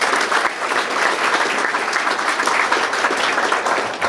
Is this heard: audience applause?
yes